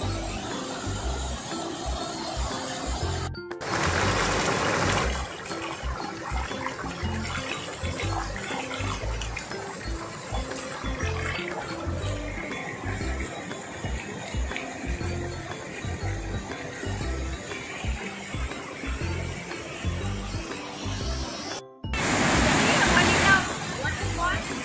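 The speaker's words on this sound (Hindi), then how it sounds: "वाटरफॉल है।" Continuous rushing water of a waterfall in Dhanbad roars throughout, with a voice talking over it and brief gaps where the sound cuts out.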